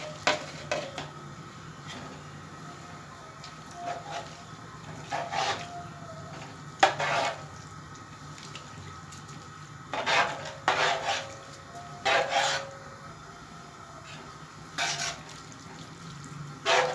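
Grated carrots are stirred into two kilos of milk in a pot for gajrela, with scattered clinks and scrapes of a spoon against the metal pot, soft and intermittent over a quiet kitchen background.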